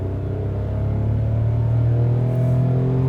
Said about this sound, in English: we recognize the sound of the three-cylinder